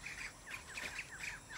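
Quiet, repeated high-pitched bird chirps from the video game Shadow of the Tomb Raider come in short bursts over a faint background hiss.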